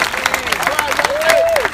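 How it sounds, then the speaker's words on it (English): Applause from a crowd at a California state senator's swearing-in ceremony, brisk scattered claps mixed with voices and a rising murmur, moderately loud and fairly close. "Let's give our new president and chairman of the Legislative Black Caucus, the Honorable Reggie Jones Sawyer, a round of applause for being here."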